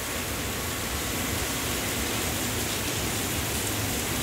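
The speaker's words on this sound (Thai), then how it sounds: "ฝนตก" Rain falling outdoors, a dense, even hiss of drops that holds steady throughout, close and moderately loud.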